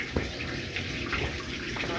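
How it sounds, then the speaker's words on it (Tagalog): Water is scooped and poured inside a boat, giving a brief, soft splashing and trickling close by against a noisy background. "Si Manny naman nagsasalok na ng tubig. Doon sa bangka."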